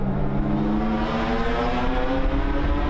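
A BMW race car at the Nürburgring during a Belcar sprint race holds a loud, sustained engine roar with a steady pitched drone as it pushes past, with no voices over it.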